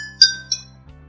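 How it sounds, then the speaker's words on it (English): A spoon taps a drinking glass holding only a little water, producing two clear, high-pitched clinks about a third of a second apart, the first louder, over a faint steady hum. "She taps on the glass with not much water."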